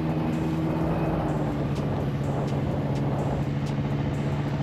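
An Indonesian-made two-stroke automatic scooter engine runs with a steady, continuous drone at a constant idle, moderately loud, with a low hum throughout and no talking.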